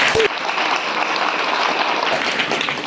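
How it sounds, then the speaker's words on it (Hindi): Applause from a church congregation at a Hindi sermon on Advent, a dense, steady wash of clapping lasting a few seconds, close and loud. "ताली बजाएंगे।"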